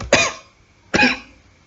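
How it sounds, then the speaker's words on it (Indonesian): Two separate coughs from a single person, close and fairly loud, spaced almost a second apart, during a spoken lecture on operating system process scheduling. "Maaf, saya agak sedikit batuk."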